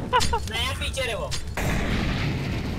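Heavy booming blasts pound in CS:GO, dense and rumbling like a string of firecrackers. Excited voices talk over the first half before a thick wash of explosive noise takes over.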